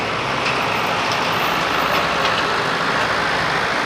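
A pulling tractor's engine running at a truck pull event, a loud steady rumbling drone heard from a distance with no clear revving changes.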